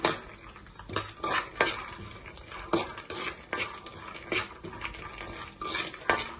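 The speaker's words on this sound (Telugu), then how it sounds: "ఇప్పుడు కొంచెం ఇది ఫ్రై చేసుకుని వెంటనే పల్లీలు వేసుకుందాం." Dry coconut and peanuts frying in a pan, with a steady dry rattle and repeated scraping knocks of a spatula against the pan, close and alone.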